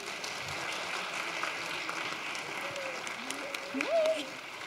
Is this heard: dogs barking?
no